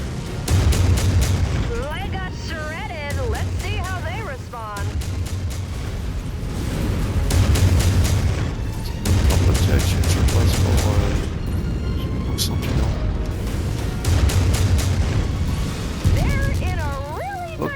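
Autocannon fire in the MechWarrior 5 video game, a fast run of booming shots over loud continuous rumble and mech noise, with chirpy electronic sounds here and there and a voice talking throughout.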